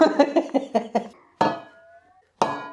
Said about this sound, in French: Il veut nous faire une symphonie de casseroles.